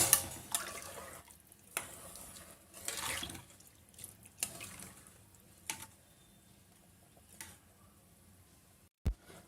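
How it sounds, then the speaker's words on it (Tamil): Water bubbles and sputters in a pot while making usili upma, in irregular bursts, with soft gurgling between them and a sharp click at the end. "நல்லா இந்த மாதிரி தண்ணி வந்து கொதி வர ஆரம்பிக்குது"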